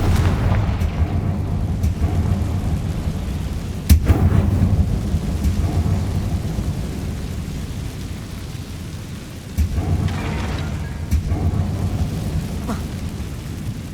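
A Confringo fire spell in Hogwarts Legacy on PC, sharp booming blasts that crack out and rumble away over a loud, rain-like ambient wash, with a second burst later on.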